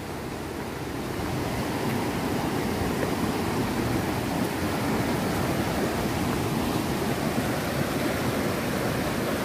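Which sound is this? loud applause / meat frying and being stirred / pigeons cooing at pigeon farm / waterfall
waterfall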